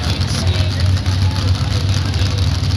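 Pulling truck engine idles with a low, steady rumble at the starting line of a truck pull at a raceway, while an announcer talks over it.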